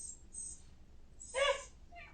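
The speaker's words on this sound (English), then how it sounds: "We now have a cat." A house cat gives a short, soft meow in a quiet indoor room, one faint drawn-out call near the end after a brief high squeak.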